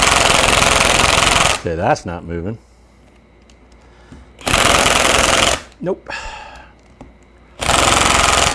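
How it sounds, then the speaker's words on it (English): An impact wrench tries to loosen a 3/8 Allen head bolt on a Hardinge speed chuck, firing three loud, rapid hammering bursts of about a second each, separated by pauses in which someone speaks briefly. "try to knock it loose with an impact first."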